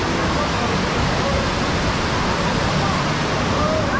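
Rushing water of a surf pool ride at a water park, pumping 200,000 liters of water per hour, makes a dense, continuous roar, loud and steady like a waterfall, with no breaks across the stretch.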